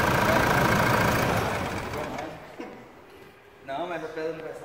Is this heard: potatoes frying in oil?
no